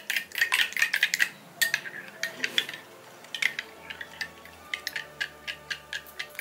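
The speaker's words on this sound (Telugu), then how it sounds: "సో ఇలా బాగా బీట్ చేసుకున్నాం కదా" A utensil beats an egg mixture for egg dosa, with salt and chili powder mixed in water, in a bowl. Quick, regular clinks and taps repeat steadily at close range, with no talking.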